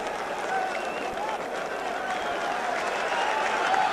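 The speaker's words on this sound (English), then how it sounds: "Tremendous applause all the way around me for Estebrac" Racecourse crowd at Cheltenham applauding the winning horse Estebrac after a novices hurdle, a dense, continuous roar of distant clapping and murmuring at steady volume.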